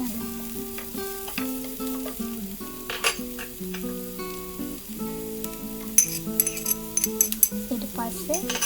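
Chicken sizzles and fries steadily in a pan as chopped large onions and red onions go in, with occasional clinks of a utensil stirring against the pan and a voice talking over it.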